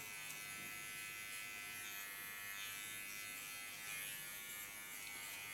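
A large electric hair clipper runs during a pixie haircut, holding a steady, faint buzzing hum throughout with no pauses or talk.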